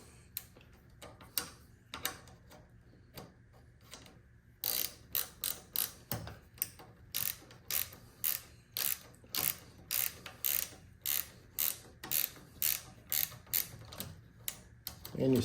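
A 1/4 inch ratchet snugs up bolts on a Venom Life Foundation canister mod, giving a long series of quick, crisp, close clicking strokes in a steady rhythm, louder and denser in the second half.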